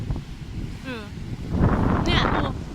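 Strong, cold wind at a seaside holiday house buffets the microphone with low, rumbling gusts, rising after a short lull, while bird calls chirp briefly through it.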